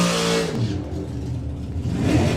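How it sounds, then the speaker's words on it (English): A junior comp dragster engine at a drag race accelerates hard, a loud sustained roar with rising revs that holds steady for a couple of seconds. "Dave Paul doing all he can to try and catch up that little dragster"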